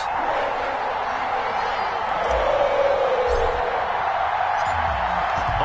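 A sold-out stadium crowd cheers in a football video game, Cincinnati hosting Pittsburgh, a steady, dense roar of massed voices at constant loudness throughout, with no individual words standing out.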